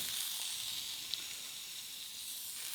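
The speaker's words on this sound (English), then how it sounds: "we're going to go ahead and get these shrimp into the saute pan" Shrimp sizzle steadily in a hot saute pan for a Creole shrimp and grits dish, a bright, continuous frying hiss with one small pop and no talking.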